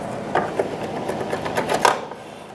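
Needle-nose pliers with a small hooked tip work a pin loose during a fuel tank replacement on a 2002-2006 Toyota Camry, giving a few sharp metallic clicks and scrapes against light rubbing over about two and a half seconds.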